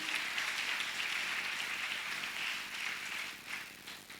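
A church congregation applauding together at a morning convention service, a dense, steady wash of clapping that holds for the whole stretch with no talk over it.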